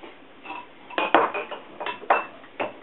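Omelet fillings, including chives, stirred together in a bowl, producing a run of clinking, scraping strokes from a utensil against the dish, fairly close and moderately loud with short pauses and no talking.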